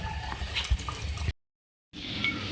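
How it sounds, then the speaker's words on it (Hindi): Water is poured from glasses into a pot of chicken and potato curry, giving a bubbling, sloshing liquid sound close up, broken by a brief silent gap before the pouring resumes. "और मैं इसके कुक करने के लिए पानी ऐड कर रही हूँ, उसमें 2 गिलास।"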